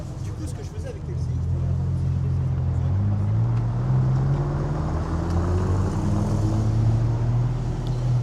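A Ford Mustang engine runs at a car gathering on Place Vauban during the Traversée de Paris, giving a steady, loud low rumble with pitch shifts as the revs rise, while people talk nearby.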